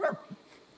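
A single short dog bark rings out close and fairly loud at the start, followed by a fainter second yelp, then quiet background.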